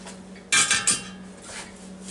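A wire rack set down inside a stainless steel Instant Pot inner pot, giving a couple of sharp metallic clanks and a brief scrape, close and clear with a faint hum behind.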